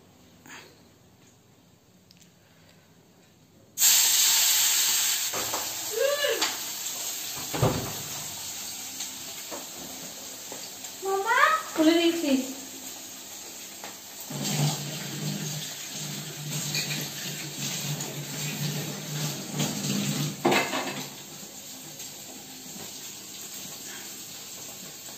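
Two fish dropped into hot oil set off a sudden loud hiss that settles into steady crackling sizzle, with brief tonal squeaks and utensil sounds over it as frying continues.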